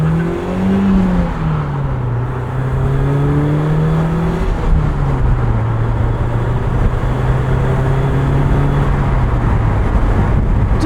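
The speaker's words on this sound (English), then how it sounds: "Just a pokey little 4-cylinder." Inside a 1996 BMW Z3, the four-cylinder engine accelerates with a loud, steady drone whose pitch rises and falls through gear changes, heard close and continuous.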